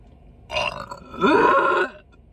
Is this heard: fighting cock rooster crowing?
no